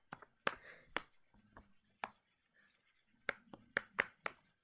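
Glue and coloring are stirred together into turquoise slime, a quiet series of irregular taps and knocks of a utensil against a container, with soft scraping between the knocks.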